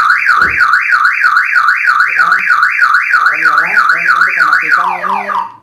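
A Toyota car alarm set off when a door is opened, a loud warbling siren cycling rapidly up and down for about five seconds before cutting off abruptly.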